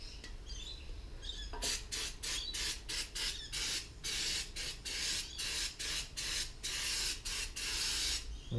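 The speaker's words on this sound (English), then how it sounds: "With a good whack of brake clean." Brake cleaner is sprayed onto engine parts while preparing to fit a 1JZ engine, first a longer hiss and then a series of short, sharp bursts in quick succession, close and loud.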